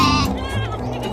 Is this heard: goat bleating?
yes